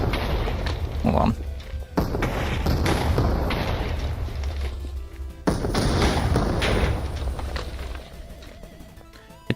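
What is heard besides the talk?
cannon firing cannonballs hitting cobblestone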